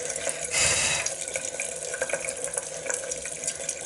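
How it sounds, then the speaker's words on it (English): Water dripped and trickled onto makeup swatches from a tap-like flow, a brief louder splash near the start followed by small scattered drips, close and fairly quiet. "I'm gonna drip some water. I don't want to like scrub at it, I just want to like drip on it"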